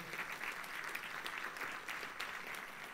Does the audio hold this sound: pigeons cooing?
no